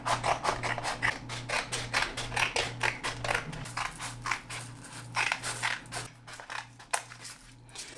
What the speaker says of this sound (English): You're gonna take some black paper and cut it to the size of that brown piece